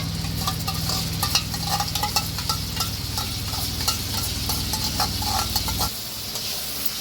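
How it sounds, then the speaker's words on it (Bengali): Spice masala stirred with sour yogurt in a pan for a chicken korma, a spoon scraping and clinking against the pan over a steady sizzle, close and loud, ending with a slight drop in level. "টক দইটা দিয়ে একটুখানি নাড়াচাড়া করে নেব।"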